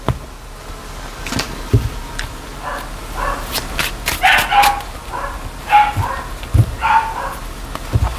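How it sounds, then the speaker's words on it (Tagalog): Several dogs bark and yip nearby in irregular bursts, some sharp barks and higher yelps overlapping, with scuffling movement between them. "Yung mga aso ko dito non-stop."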